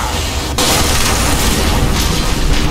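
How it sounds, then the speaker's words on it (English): A heavy boom breaks out as a tower is destroyed in the Dota 2 video game, a sudden loud blast that holds as a dense, sustained rumble of destruction. "Dire's middle tower has fallen."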